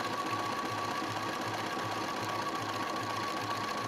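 A sewing machine stitches around a pre-printed quilt pattern at a slow, steady pace, producing a continuous close whir with an even rhythmic pulse and no talk.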